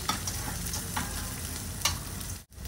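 Chopped onion with ginger, garlic, turmeric, chilli, salt and cumin sizzles in a pan, with a spoon stirring and scraping through a continuous close frying hiss for a few seconds.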